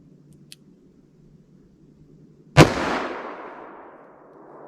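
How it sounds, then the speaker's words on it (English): A single loud .44 Magnum shot firing a 200-grain Buffalo Bore load outdoors, a sharp crack after a quiet lead-in, followed by a long decaying echo rolling away. "So let's try the 44 Mag, see how that compares."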